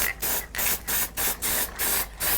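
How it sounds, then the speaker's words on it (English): An aerosol can of marking ink is sprayed onto a wooden carving blank for layout, producing six short, even hissing bursts in a steady rhythm with brief pauses between them, close and clear, with no talk. "remember, you want to have just a kind of a light touch with the spray"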